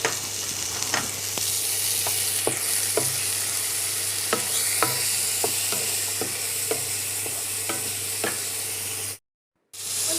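Sliced tomatoes stirred into a sizzling frying pan for a Kerala-style banana leaf fish fry, steady frying hiss with repeated sharp spoon scrapes and taps, close, then a brief cut to silence.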